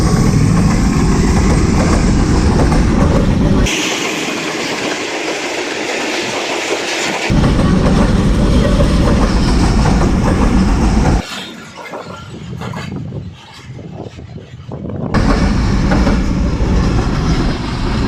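The Jaffar Express passes Tarki railway station, loud and close, with rumbling wheels and clickety-clack over rail joints that shift in tone as the carriages roll by.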